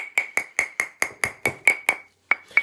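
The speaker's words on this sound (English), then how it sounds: "little bit more shape by hammering on the bracelet mandrel" Wire-wrapped beaded bangle hammered on a steel bracelet mandrel, ten sharp metallic ringing strikes at an even, steady rhythm with one short pause before the last two, close and clear with no talk.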